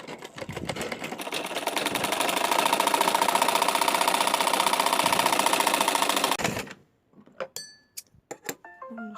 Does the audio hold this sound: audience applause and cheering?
no